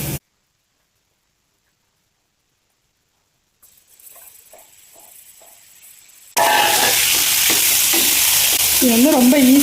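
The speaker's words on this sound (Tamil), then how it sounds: "இந்த மாதிரி பூண்டு நல்லா வதக்குனதுக்கப்புறமா நம்ம மசாலா போட்டு கரைச்சி வச்சுருந்த எறா வந்து சேர்த்துடலாம்." Masala-marinated prawns are added to garlic sautéing in a pan. Near-silence and a few soft knocks come first, then a sudden loud, continuous sizzle of frying takes over for the last few seconds.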